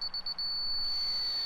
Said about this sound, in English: I'm holding the laser, waiting for that to beep out to grade